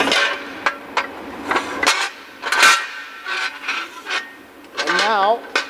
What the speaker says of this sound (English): we're just going to lift the vehicle up off the jack stand, and we're going to pull our jack stand out